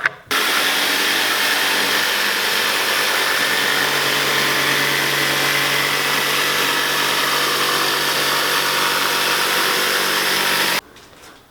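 A power saw cuts wood at an angle for the galley of a teardrop camper build, a loud, continuous grinding roar that starts abruptly and stops sharply near the end, with nobody speaking.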